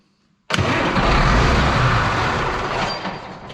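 A CASE Magnum tractor engine cranks over to start, a loud, dense broadband churn that bursts in after a brief quiet moment and holds steady for about three seconds with no voices.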